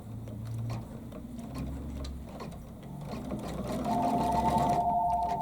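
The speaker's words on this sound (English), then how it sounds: "I'm going to back up a few stitches and restart my machine" An embroidery machine stitches a ribbon onto a pillow project, producing a steady rapid mechanical chatter with a rhythmic ticking pulse and a faint whine that grows slightly louder toward the end, close and alone.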